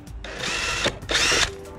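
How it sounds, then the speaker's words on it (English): A power drill bores holes through a fiberglass Rocket Bunny V2 spoiler during a Miata install, two close, loud bursts of whirring with a brief pause between them. "I'm gonna drill these holes"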